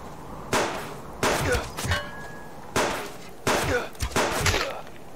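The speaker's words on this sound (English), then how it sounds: "he shot me in the head!" Gunshots in the survival video game Subsistence, five loud sharp cracks at close range arriving in uneven succession with echoing tails and brief gaps between them.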